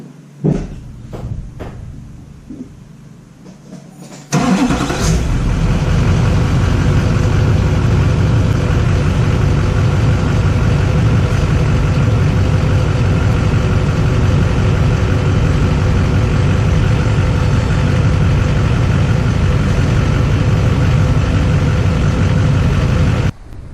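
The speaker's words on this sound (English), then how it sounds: "So let's get the truck fired up and we'll demonstrate." A 2005 GMC Sierra 2500HD heavy-duty pickup engine cranks and fires after a few quiet seconds, then settles into a loud, steady low rumbling idle that continues to the end with no talk.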